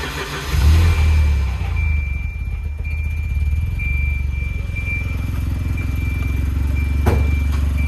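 A 1984 Volvo 240's engine idles low and steady, a deep continuous rumble close by with a faint high whine above it and no voices.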